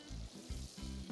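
Garlic, onions and tomatoes sizzling in a pan, a brief, faint crackling fry with a low bubbling rumble underneath.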